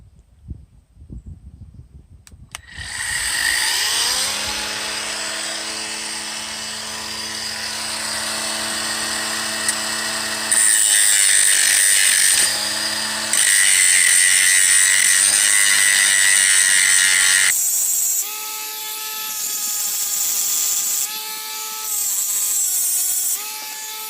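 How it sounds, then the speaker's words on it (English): Bauer cordless angle grinder spinning up and cutting metal, a loud, sustained high whine with shifting pitch as the disc bites and eases off, close by with no talk. "after using this cordless angle grinder"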